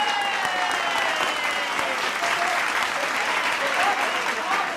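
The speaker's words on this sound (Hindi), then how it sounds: "एक बार जोरदार ताली।" Dense, steady audience applause at a Hindi comic poetry gathering fills the whole stretch, loud and close, with a faint tonal hum underneath.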